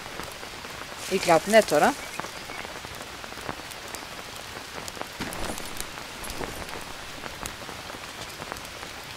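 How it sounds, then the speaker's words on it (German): Rain falls steadily in the jungle survival game Green Hell, a dense, even patter of drops hitting surfaces throughout, with someone briefly speaking over it early on. "Gott, da regnet es."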